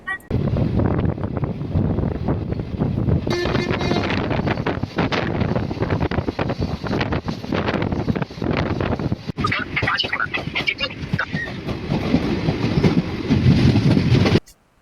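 The Paharia Express pulls out of Kishanganj station with a steady, loud rumble of wheels on rails and rhythmic clickety-clack, heavy wind buffeting the microphone throughout.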